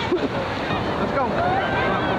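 Storm waves wash over a seawall in heavy wind, a roaring rush of surf and gusting noise, while voices talk briefly beneath it.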